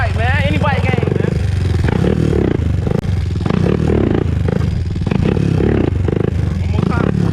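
A 2001 Honda TRX400EX ATV with a ticking noise, ridden around corners: loud, continuous engine drone and revving fill the whole stretch, rising in pitch early on, with voices mixed into the engine noise.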